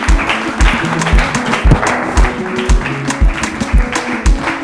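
A stand-up comedy audience applauding, loud dense clapping with rhythmic waves of claps, close and steady throughout, with no voices standing out.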